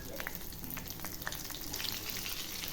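Green and red chillies with nigella seeds and grated ginger sizzle in hot oil in a pan, a steady close frying crackle with small spattering pops and no voices.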